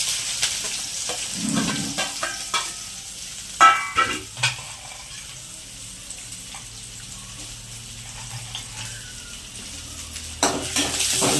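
Onion, chillies and peanuts are stirred in a pan on top of mustard seeds and cumin, giving soft scraping and a low sizzle with a few sharp clinks of the spoon against the metal.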